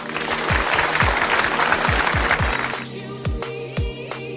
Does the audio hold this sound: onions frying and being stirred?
no